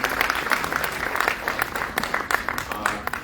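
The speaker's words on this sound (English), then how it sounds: "Please give him a round of applause." Audience applause for a speaker at a Bharatanatyam arangetram, brisk crowd clapping with distinct sharp claps standing out, steady throughout the short stretch with faint voices beneath.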